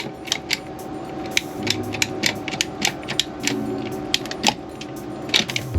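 A hand crimping tool squeezed repeatedly to tighten a hose clamp on a van's off-grid water line, giving a rapid series of sharp, close ratcheting clicks with no talking.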